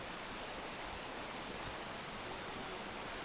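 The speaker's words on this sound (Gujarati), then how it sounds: "આવો વોટરફોલ છે આખો." A forest waterfall beside Australia's Great Ocean Road roars as a steady, dense, unbroken rush of falling water, close and constant with no voices.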